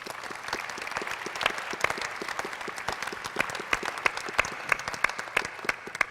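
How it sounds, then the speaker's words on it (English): An audience claps steadily in a sustained round of applause, the many hands forming a dense patter with sharper individual claps rising above it. "How about a round of applause if you think that's proper?"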